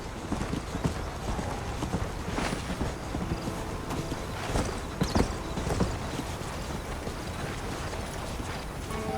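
Horse hooves clip-clop steadily in the Western video game Red Dead Redemption, a continuous trotting rhythm over a dense bed of ambient game noise, with no speech.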